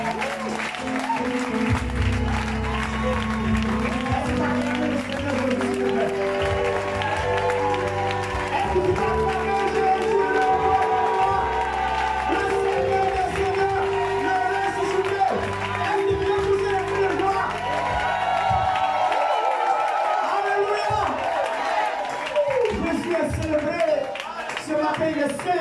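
A church congregation at a French-speaking worship service claps and cheers for Jesus, steady applause and crowd voices swelling under music and a preacher's amplified speech, fading near the end.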